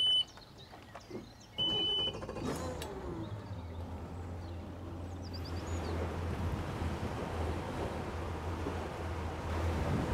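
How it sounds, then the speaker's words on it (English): A Boston Whaler 210 Montauk boat engine cranks and catches after a couple of seconds, then settles into a steady low idle under rushing water and wind. "Let me start up the engine and let's take her out for a spin."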